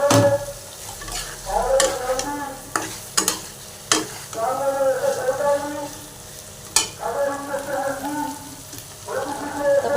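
Pointed gourd pieces frying with chili in a pan, a steady sizzle broken by sharp stirring scrapes and clatters of the spatula, close and fairly loud throughout.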